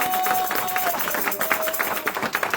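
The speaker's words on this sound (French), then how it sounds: "célébrer le saint nom de notre Seigneur Jésus-Christ par les acclamations." A church congregation at a Sunday thanksgiving service claps and cheers continuously, with a dense wash of applause and voices rising and falling.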